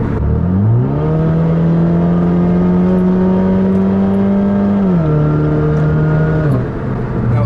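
A 2008 Saturn Sky Redline turbocharged engine with automatic transmission accelerates smoothly, its steady drone rising in pitch, holding, then dropping at shifts, close and loud with no voices.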